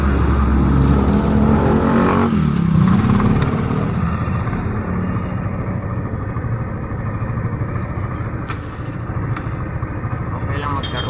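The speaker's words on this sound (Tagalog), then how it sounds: "Huwag mo nang karwasin yung motor at maulan ngayon." Motorcycle engine revving on a wet road in the rain, loud and close, with a rising rev early on that settles into a steady running drone. Someone talks over it throughout.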